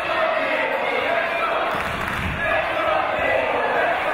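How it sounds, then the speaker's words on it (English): A British wrestling crowd roars continuously in a large hall, a dense sustained wash of cheering with a commentator talking over it. "And listen to this crowd once again."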